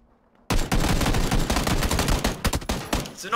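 Sudden bursts of rapid gunfire in PUBG erupt after a brief quiet moment, dense and loud, continuing in volleys for a few seconds.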